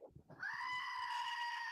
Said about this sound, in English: Screaming goat figurine that I have.